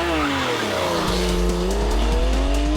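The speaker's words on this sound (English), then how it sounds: "Cog swaps are courtesy of the legendary 7-speed PDK gearbox" Porsche GTS with a 7-speed PDK gearbox accelerating hard, its engine note climbing steadily and loud and close, broken by quick upshifts that drop and restart the rising pitch.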